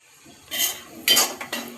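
A spoon scrapes and clinks against a pan while mixing onion, tomato, red chilli, turmeric and spices, three distinct metallic strokes close by with short pauses between.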